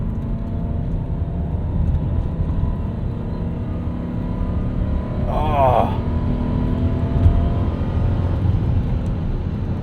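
A 1996 BMW 735i with a five-speed manual gearbox accelerates hard toward 6,000 RPM, its engine drone steady and close from inside the cabin, with a brief voice exclaiming midway.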